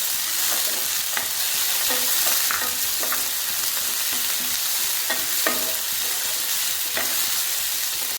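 Onion and half a tomato sauté in an oil-filled pan for a Kerala fish mappas, giving a steady close sizzle broken by repeated scraping stir strokes, with no talking.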